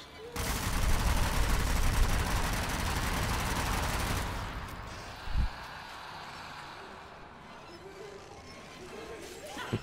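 Sustained automatic fire from an M1 Carbine and PPSh-41 in the Zombie Army 4 video game roars loudly for about four seconds, followed by a single heavy thud and quieter game ambience.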